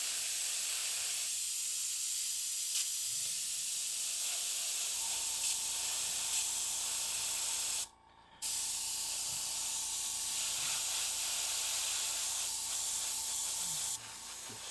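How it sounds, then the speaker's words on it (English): Airbrush spraying paint onto a miniature figure, a continuous close hiss that holds steady for long stretches, cuts out briefly once, then resumes. "all the airbrush spray is going towards that way"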